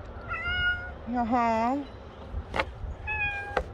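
A cat meows several times up close, drawn-out rising and falling calls, with a person speaking briefly between them.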